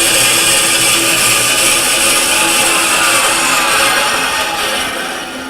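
A bandsaw that has just cut spruce stock is switched off and winds down, its broadband whir steady and loud before fading slightly toward the end as the blade coasts to a stop.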